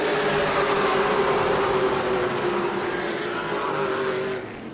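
Race car engines roar together at a green-flag restart on the New Smyrna oval, a loud sustained drone with a steady engine whine that holds until it drops away near the end.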